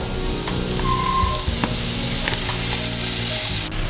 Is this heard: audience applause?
no